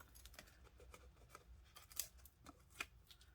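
Scissors snip paper for a pop-up card in a series of quiet, crisp cuts at an uneven pace, each one a close, soft slicing rasp with a few sharper clicks of the blades.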